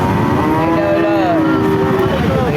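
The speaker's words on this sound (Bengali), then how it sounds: "চার নম্বর গরুটা দর্শক ফ্রিজিয়ান জাতের গরু এটা" A Friesian dairy cow at a cattle market gives a loud, close, drawn-out moo that fills nearly the whole stretch.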